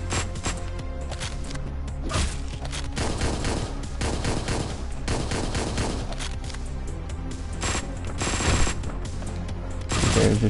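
Rapid, dense gunfire in Hotline Miami 2, with loud bursts of shots over a driving background of game music, continuous for about ten seconds.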